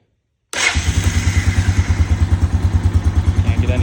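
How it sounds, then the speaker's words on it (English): 2000 Honda Foreman 450es ATV engine firing up for its first start after revival work, catching abruptly and settling into a loud, close, steady thumping idle with rhythmic pulses. "And we're gonna just do the first startup here."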